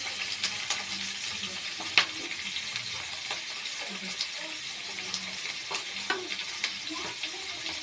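Green chillies and four or five chopped onions fry in oil, a continuous busy sizzle with frequent stirring clicks and scrapes of a spatula in the pan.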